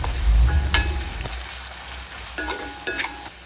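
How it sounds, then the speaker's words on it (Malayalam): Onions for a Kerala-style beef roast fry in a pan, giving a close, lively sizzle with a few sharp clinks and scrapes of stirring, louder and fuller at the start. "നമ്മൾ ഉള്ളി അത്യാവശ്യത്തിന് വെന്തോട്ടെ"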